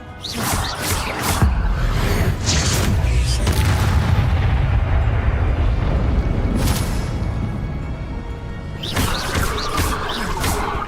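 Fiery Confringo blast spells from the Hogwarts Legacy video game, booming bursts with whooshing crashes during dense spell combat, loud and continuous with several sharp hits near the start and end.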